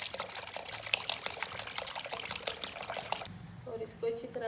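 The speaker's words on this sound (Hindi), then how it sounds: "और इसमें मैं 2 किलो दूध डाल रही हूँ।" Two kilos of milk are poured into a pan for sabudana kheer as a steady, close liquid splash for about three seconds, then the stream stops and quieter kitchen sounds follow.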